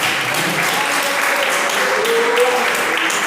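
A church congregation at a family worship service breaks into applause, a thick, continuous clapping from many people filling the room, loud and even for a few seconds with faint voices mixed in.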